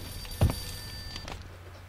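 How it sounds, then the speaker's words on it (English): A telephone rings inside the video game Max Payne, two brief electronic ring bursts separated by a pause, moderately loud over a low steady background hum. "Yes, it's phone."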